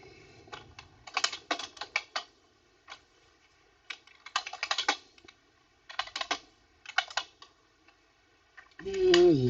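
Keys tapped on a computer keyboard in short irregular bursts of close, crisp clicks separated by pauses, ending with a louder burst of other noise.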